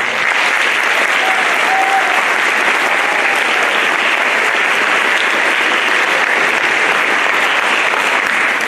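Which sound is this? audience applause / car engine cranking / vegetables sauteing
audience applause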